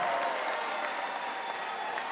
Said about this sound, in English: Home crowd now getting into it, trying to rally their team